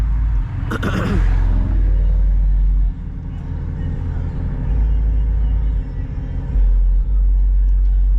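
Deep, booming bass rumbles steadily from a car's sound system, heavy low thumps pulsing under faint road and engine noise.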